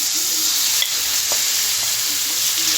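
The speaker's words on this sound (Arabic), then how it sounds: "خلي بالنا ننزل الكبده بتاخد صدمه الاول زي ما انتم شايفين كده." Liver for Alexandrian-style fried liver hitting a hot pan, a loud continuous close sizzle and hiss with occasional stirring clicks, no talking.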